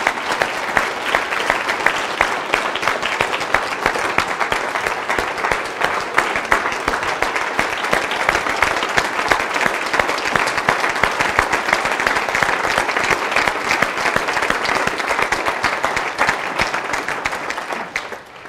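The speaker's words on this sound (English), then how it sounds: "I'd like you to give them a round of applause, please" A large crowd at an annual charity comedy evening gives a long, steady round of applause, dense and loud throughout with no talking over it.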